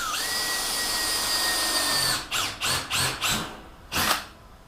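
A power drill boring holes through a painted metal panel with one drill bit, a steady whining run followed by several short bursts of drilling and a final burst, close and fairly loud.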